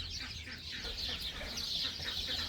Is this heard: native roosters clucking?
yes